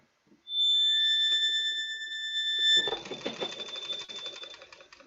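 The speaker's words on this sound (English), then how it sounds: "going from vibrato" A sustained accordion chord with steady vibrato, then a sudden shift into rapid, rhythmic bellow-shake pulsing that continues loudly to the end.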